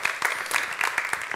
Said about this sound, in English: a big round of applause for Liz, Anita, Emilie, Brenda, David, and Mike